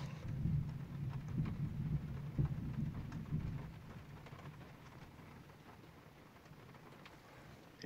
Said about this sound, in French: Il y a un orage qui est en train d'éclater là.